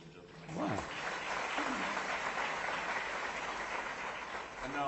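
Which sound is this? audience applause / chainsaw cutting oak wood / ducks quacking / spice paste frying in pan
audience applause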